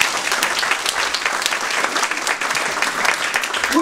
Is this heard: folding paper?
no